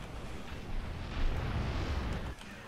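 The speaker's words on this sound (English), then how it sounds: "So many explosions." Rumbling explosions from space combat in Star Trek Online against Iconian ships, a dense, continuous low roar with heavy booms swelling around the middle and cutting off abruptly near the end.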